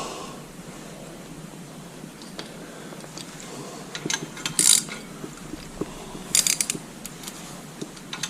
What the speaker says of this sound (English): Run your set screws in until you feel them touch the lift arm